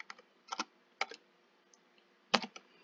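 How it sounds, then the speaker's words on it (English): Keys tapped on a computer keyboard while entering a Windows Server 2019 preview product key: close, irregular clusters of plastic clicks separated by short pauses, with no one talking. "start typing this in here."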